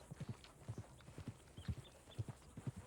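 Hooves of a horse following its rider in the Western roleplay game WhiskeyRidge RP, a faint, distant, steady clip-clop of paired hoofbeats, with no talk over it.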